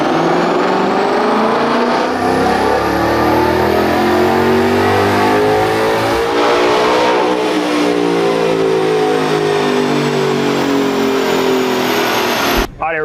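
Ford Mustang GTD strapped down on a chassis dyno, its engine revving hard through the gears in one loud, continuous pull that climbs and sweeps up in pitch, then cuts off abruptly at the end.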